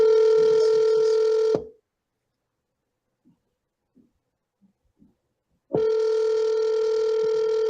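A telephone dialing and calling out, with a steady tone that stops and leaves a gap of faint clicks before the tone returns, close and clear, with no talking.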